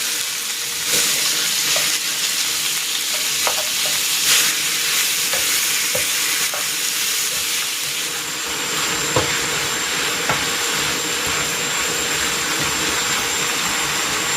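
Ground pork sizzles steadily in a hot pan with onion for menudillo, a continuous loud frying hiss with occasional stirring scrapes and clicks throughout, no voices.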